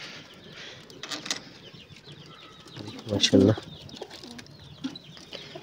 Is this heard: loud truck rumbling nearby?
no